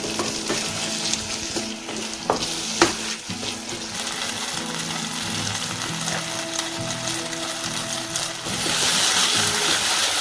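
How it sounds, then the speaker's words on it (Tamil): Tomatoes sauté steadily in a hot pan for several seconds while cooking prawn pepper fry, with occasional clinks and scrapes of stirring and the frying growing louder near the end. "தக்காளி நல்லா வதங்கட்டும்."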